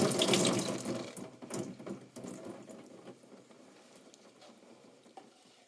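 Tap water runs and splashes as soap residue is rinsed off a black-patina stained glass piece, loudest at first, then thinning to a softer trickle and fading patter.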